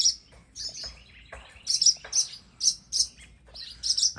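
Small birds on a farm chirp in short, bright bursts of tweets, fairly close and repeated in irregular clusters, with no talking.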